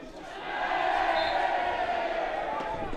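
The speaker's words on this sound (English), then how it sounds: "Crowd getting into this in the final 10." Crowd noise at a men's field hockey Scottish Plate Final, Western Wildcats against Watsonians: a swelling, sustained roar of spectators under a commentator's voice.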